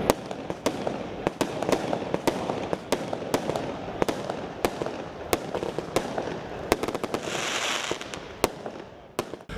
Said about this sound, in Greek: αμέσως μετά πυροτεχνήματα φωτίζουν τον ουρανό